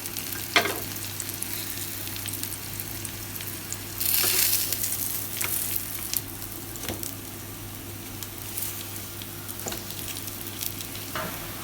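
Pinches frying in butter in a pan, a steady soft sizzle running throughout with occasional sharper crackles and one louder burst of spattering partway through.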